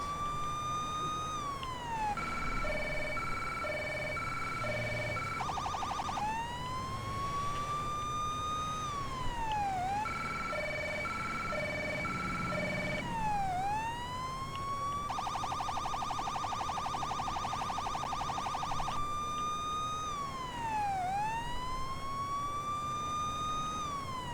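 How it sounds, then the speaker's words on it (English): Police car siren from the Police Simulator game wails and yelps in repeating cycles, switching between rising sweeps and rapid warbling tones, loud and continuous throughout over a low engine-like rumble. "Turn the siren off, turn the lights off, exit the vehicle."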